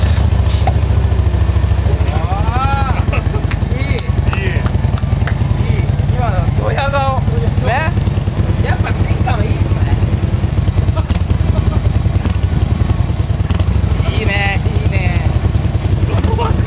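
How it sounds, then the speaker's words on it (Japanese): A Harley-Davidson motorcycle engine runs loud and steady throughout with a deep, throbbing idle rumble, while people talk over it. "早速エンジンの音の方聞かせていただきましょう"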